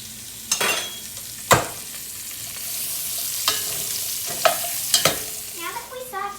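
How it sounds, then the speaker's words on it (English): Quartered onions and carrots sear in hot oil for a family pot roast, a constant close sizzle punctuated by several sharp clanks and scrapes of stirring spaced a second or so apart. "now we're going to add into the oil 2 onions that are completely quartered and 4 carrots"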